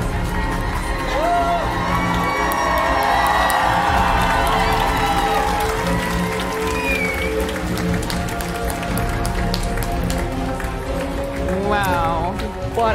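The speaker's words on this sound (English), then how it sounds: "Give them one more big round of applause, everyone." An audience at the Nordic Cosplay Championship 2018 cheers, whoops and applauds a cosplay lineup for a sustained stretch, with music and talking mixed into the steady crowd noise.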